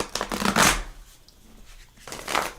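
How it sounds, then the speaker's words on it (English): A big, stiff deck of cards being shuffled by hand: two crisp riffling bursts, close and loud, with a brief quieter gap between them. "My big deck that's hard to shuffle"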